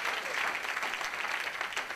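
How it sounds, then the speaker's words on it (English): A live audience at a London event breaks into steady, dense applause that holds at an even level for the whole stretch, with no voices rising above the clapping. "Can we just give this guy a massive round of applause?"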